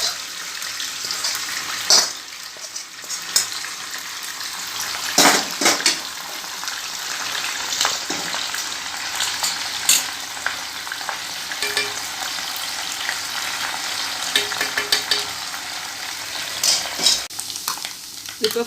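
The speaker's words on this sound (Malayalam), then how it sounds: "എണ്ണ ചൂടാവുമ്പോൾ ചെമ്മീനിട്ട് കൊടുക്കുക. ചെമ്മീനിട്ട് ഫ്രൈ ചെയ്യുക." Prawns frying in hot oil for a Kerala-style prawn pickle give a steady, dense sizzle with occasional stirring clatter, loud and close, with no talking.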